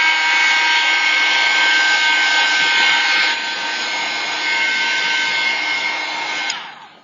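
A handheld dryer blows steadily on wet gold paint on a paper-doll artist trading card. It makes a loud, continuous whirring rush close by, eases off slightly midway and cuts off near the end.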